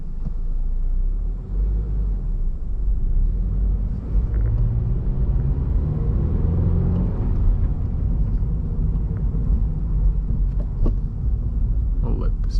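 A 2023 Subaru BRZ Sport-Tech driven downtown in winter, heard from inside as a continuous low engine and road rumble whose pitch rises and falls with gear changes, fairly loud, with no talking.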